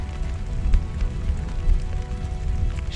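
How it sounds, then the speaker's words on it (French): Steady rain falls during a passing thunderstorm on the GR20 mountain trail. It makes a dense, even hiss and patter throughout, with no voices over it. "On va attendre que la pluie s'arrête."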